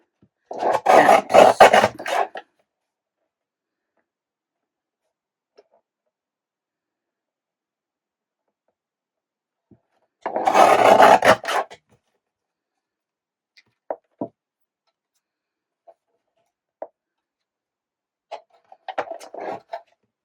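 Small card strips cut by hand for a handmade card: two separate scraping, rasping cutting strokes about eight seconds apart, followed by a few faint, scattered clicks and taps in an otherwise quiet room.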